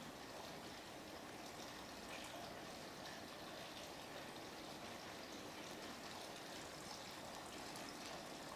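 Water trickles and flows in a soft, continuous stream, faint and unbroken throughout with no voices, during a guided meditation on the elements.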